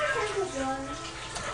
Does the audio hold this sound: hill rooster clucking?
no